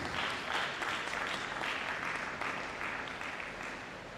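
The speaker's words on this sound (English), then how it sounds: "Another round of applause for Bells University" Sustained applause from an audience at a college lecture, honoring Bells University, even and dense throughout and easing slightly toward the end.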